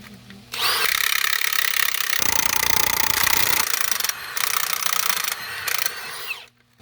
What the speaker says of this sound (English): we're gonna tighten these 5/8 nuts up as much as we can with this impact wrench